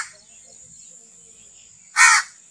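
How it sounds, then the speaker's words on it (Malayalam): A crow gives a single loud, close caw near the end, after a faint steady hiss. "ആ കാക്കയുടെ മോനായിരിക്കും ഈ കാക്ക."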